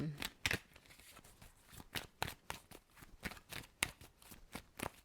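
Faint, repeated riffling and snapping of playing cards being shuffled, in quick irregular bursts close by, over a quiet background.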